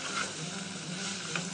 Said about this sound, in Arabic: ونقليوا اللحم مع البصل